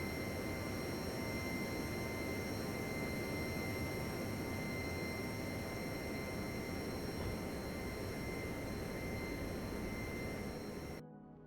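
In the game Airport Control 27, an airliner takes off from runway 4 right at JFK, a steady, broad engine roar that holds constant for about eleven seconds and then cuts off abruptly.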